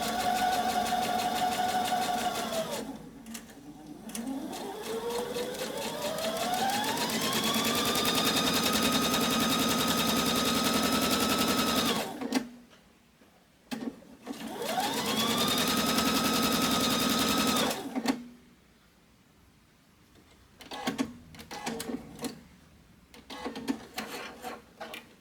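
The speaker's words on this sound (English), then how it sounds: "I'm going to start sewing these pieces together" A sewing machine that has been acting up stitches quilt pieces together in long continuous whirring runs, with the motor pitch rising as it speeds up, then brief pauses and short bursts near the end, no talking.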